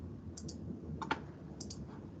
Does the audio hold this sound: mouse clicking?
yes